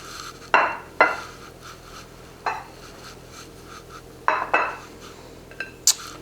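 Toast set onto a plate with several distinct clinks and knocks of dishes and cutlery, sharp separate impacts over a quiet kitchen background, close by and without talk.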